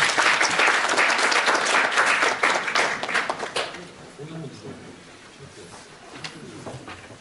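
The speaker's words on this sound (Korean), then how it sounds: "여러분 큰 박수로 환영해 주시면 좋을 것 같습니다." A conference audience at a Korean privacy-law seminar applauds to welcome a presenter, with a full burst of clapping for about three and a half seconds that thins to scattered claps and faint room murmur.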